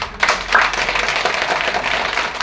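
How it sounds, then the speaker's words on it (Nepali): Audience applause fills a certificate ceremony at a large training centre, a dense, steady patter of many hands clapping throughout. "सबैजनाले चाहिँ ताली बजाएर साथ दिनुहुन्छ"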